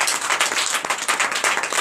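A church congregation applauds during a Sunday service in Comè, Benin, a short burst of dense, steady clapping from many hands filling the room.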